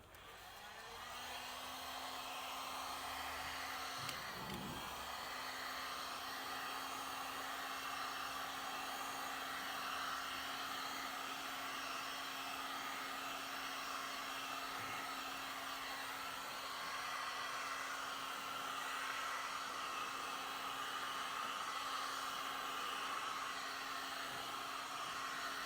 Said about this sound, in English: just break out a heat gun.